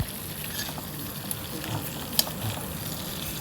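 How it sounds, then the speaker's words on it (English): Clarified butter bubbling and boiling in a small cooker, a steady low crackle and fizz of frying with occasional sharper pops, close and alone. "You can see it's bubbling up, boiling, doing its deal."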